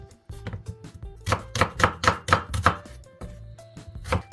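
A knife dices onion quickly on a board, a run of close, crisp, evenly spaced strikes that speeds up and then slows, with no voices.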